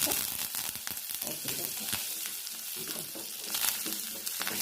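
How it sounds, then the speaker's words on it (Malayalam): Mustard seeds with a little cumin crackle and splutter in hot oil, sharp close pops scattered over a continuous sizzle, with no talking. "കടുക് പൊട്ടിക്കഴിഞ്ഞല്ലോ"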